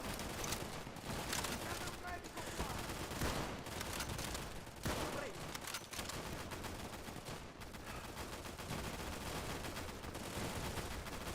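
Dense rapid gunfire in the World War II shooter game Easy Red 2, overlapping rifle and machine-gun bursts that continue steadily throughout, with someone talking now and then.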